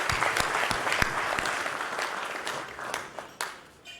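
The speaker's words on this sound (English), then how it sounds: "let's just give a round of applause to Mrs." Applause from an awards ceremony audience honoring a certificate recipient, a dense crowd of clapping hands that stays steady for several seconds before thinning and fading out near the end.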